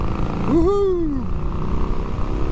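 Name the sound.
Harley-Davidson motorcycle with Porsche-designed Revolution engine riding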